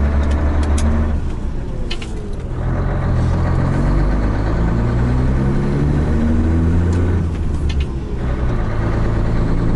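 Dump truck engine running on icy village roads, a loud, close, continuous diesel rumble with rising and falling throttle over nearly ten seconds and no speech.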